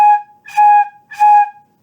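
Three breathy flute notes played with hooing instead of tonguing, the notes starting softly and swelling, each held steadily at the same pitch and separated by short gaps, close and loud with no talking.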